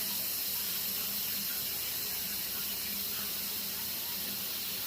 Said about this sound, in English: You can tell by the sound the pressure's almost all the way out